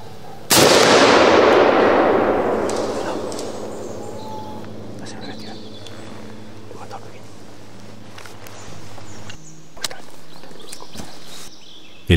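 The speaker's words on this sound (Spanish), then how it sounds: "El disparo ha frenado en seco su carrera." One loud shot from a Browning BAR 4X rifle cracks out close by while hunting wild boar in Normandy, then its long rolling echo fades across open ground, followed by faint quiet outdoor sounds.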